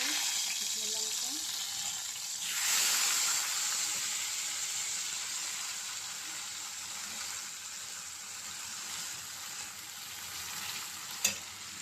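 Taro stalks hit hot oil seasoned with black cumin and dried chilli, setting off a steady, close sizzle and hiss that swells as they go in, with light stirring and a brief clink near the end.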